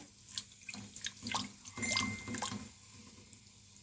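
Half a cup of vinegar is poured into a pot of tomato and chilli ketchup paste, making quiet, close trickling and splashing sounds in short bursts with soft background hiss.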